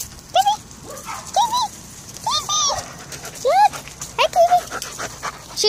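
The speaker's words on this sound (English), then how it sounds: "She's only a puppy, and she's a German Shepherd." A German Shepherd puppy, heard close up with rapid breathy panting under whiny, squeaky vocal sounds, in irregular bursts with short pauses between them.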